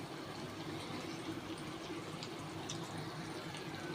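Water is poured into a pot of mango curry sweetened with jaggery in a home kitchen, making a steady close splashing and gurgling stream that runs for about four seconds without pause.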